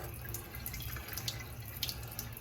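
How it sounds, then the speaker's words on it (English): A hotel bathroom sink faucet runs at low water pressure, giving a thin, steady trickle with faint drips against the basin, close and quiet. "Some real low water pressure."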